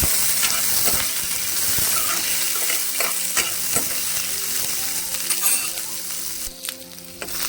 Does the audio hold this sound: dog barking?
no